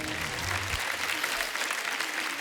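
Studio audience at a Kapil Sharma Show taping bursts into steady, dense applause, a continuous wash of clapping from many hands that holds at an even loudness throughout with no talk over it.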